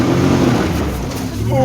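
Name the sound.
truck engine revving while driving fast through mud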